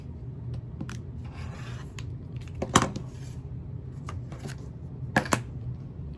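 Scissors or a rotary cutter trimming excess fabric off a quilt block, with soft scraping and rustling, two brief louder snips and light handling noises, close by and fairly quiet.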